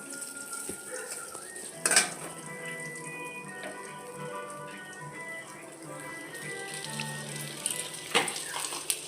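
Brinjal being stirred and turned in a pan: gentle sizzling with intermittent clinks and scraping of a metal utensil, two sharper knocks standing out, fairly close.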